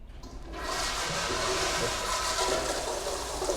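A toilet flushes in a custodial maintenance setting, rushing water building after a brief quiet start and pouring steadily as the bowl drains, loud and close with no talk over it.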